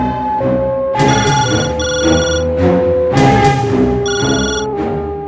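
A phone rings in a TV serial scene, a loud melodic ringtone pattern sounding in repeated bursts of about a second each over a steady tonal backing, with no one speaking.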